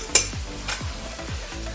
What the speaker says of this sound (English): If you're not hearing that sizzling, something's wrong.